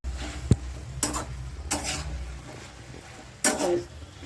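A spoon stirs a bottle gourd leaf curry in a pan after poppy seed paste is added. A few separate scraping strokes sound against a low background hum, with quiet gaps between them.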